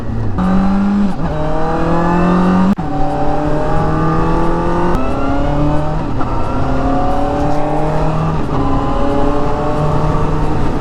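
A Benda LFS 700 four-cylinder motorcycle revs and shifts while riding, its engine climbing in pitch repeatedly with gear changes, loud and close over steady wind noise.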